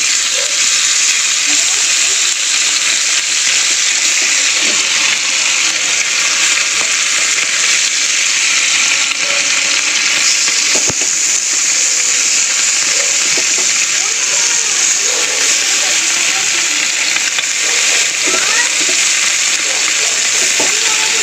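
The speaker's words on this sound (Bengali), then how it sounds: "আমুদি মাছগুলো এখন ভেজে নেব প্যানে" Salted, turmeric-coated amudi fish fry in oil in a pan, giving a loud, steady, close sizzle with crackles and spatters throughout, with no pause.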